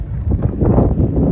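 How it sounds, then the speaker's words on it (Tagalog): Wind blowing across an outdoor microphone beside a river in the UK, a steady low buffeting rumble that rises slightly after the first moment and holds through the short stretch, with no talking. "ang windy siya"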